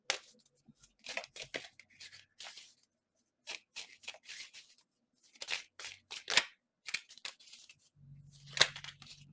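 Tarot cards being shuffled and flipped up close: short, soft bursts of papery riffling and snapping come in uneven clusters separated by near silence.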